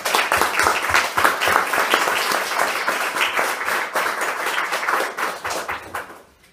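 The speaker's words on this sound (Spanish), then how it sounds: "Comenzamos la presentación del día de hoy con un fuerte aplauso" An audience at a book presentation bursts into loud, sustained applause, dense clapping holding steady for several seconds before tapering off at the end.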